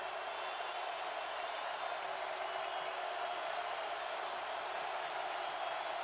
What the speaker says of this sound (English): a deafening crowd here at the Horseshoe